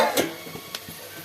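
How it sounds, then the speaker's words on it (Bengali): Meat tipped into a pan of onions already fried to a deep red-brown, then stirred: a burst of sizzling with scraping stirs, a few sharp clinks, and a softer frying hiss continuing close by. "পেঁয়াজটা লাল লাল করে ভাজা হয়ে গেছে, এবার মাংসটা দিয়ে"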